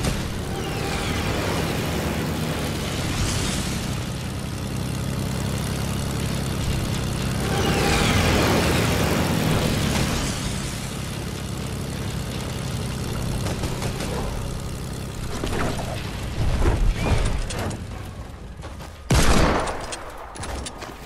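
Airplane engine drone in a shooter video game, a steady loud roar that swells and fades over about twenty seconds, with bursts of gunfire near the end and no talking.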